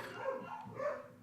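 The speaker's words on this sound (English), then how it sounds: "I'm sorry for the dogs barking" Dogs bark in two quick, faint bursts, somewhat distant and muffled, with no one talking over them.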